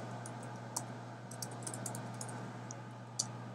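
Soft, steady typing on a computer keyboard, keys tapped in an uneven run with a few sharper clicks, faint and close over a low background hum.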